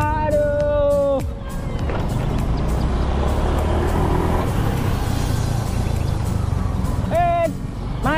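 Jammed road traffic rumbles steadily with engines idling, and a loud horn blasts near the start and again near the end while people talk over it.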